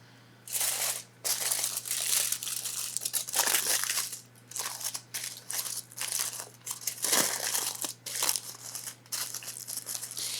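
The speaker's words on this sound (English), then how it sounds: "I am gonna take a piece of foil" Aluminum foil crackles and crinkles in repeated close bursts while wrapping a ham and cheese sandwich, loud and bright with brief pauses between handlings.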